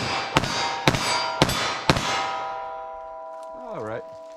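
.38 Special handgun fired rapidly, four sharp, loud reports about half a second apart, each ringing briefly, then a fading tail and a short warbling tone at the end.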